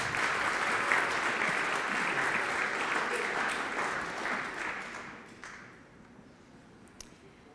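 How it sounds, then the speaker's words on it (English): Audience applause at a charity auction fundraiser, a dense, sustained clapping from a crowd that holds steady for several seconds, then thins and fades out near the end. "Give them a round of applause."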